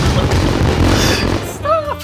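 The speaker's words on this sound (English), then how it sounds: "exploded more fireworks" Fireworks burst in My Summer Car with a loud, booming blast that rumbles on briefly and then gives way to a short, high whistling sound.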